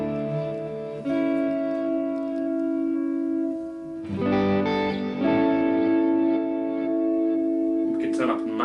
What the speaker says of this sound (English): So here's just the litigator preamp.